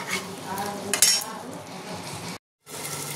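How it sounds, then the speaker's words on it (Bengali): Watermelon and prawns sizzle as they are sautéed in a pan, with a spoon scraping and clinking against the metal at moderate volume and a brief silent gap near the end. "এটার সঙ্গে কষে নেবো"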